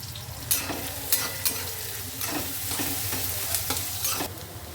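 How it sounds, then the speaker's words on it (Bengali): A large quantity of chopped onions frying in a pan, stirred and scraped with a spatula, giving a constant close sizzle broken by sharp clattering strokes every second or so, no talking. "এবার আমি বেশ অনেকটা কোয়ান্টিটিতে আমি পেঁয়াজ কুচি দিয়ে দিলাম।"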